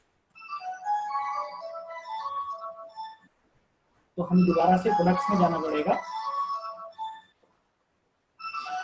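A mobile phone rings with a repeating melodic tone that stops and briefly starts again, interleaved with someone speaking Hindi close to the microphone.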